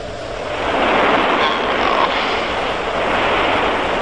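Small airplane flying, a steady loud broadband engine drone with wind-like hiss that swells in the first second and then holds, alone without speech.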